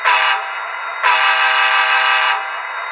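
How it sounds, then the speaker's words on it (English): A loud, close horn from an Athearn Genesis SD60i model locomotive's Tsunami 2 DCC sound decoder blasts twice: a short toot, a pause, then a longer sustained blast with a slightly buzzy electronic tone. "F2 is horn. That is a loud horn."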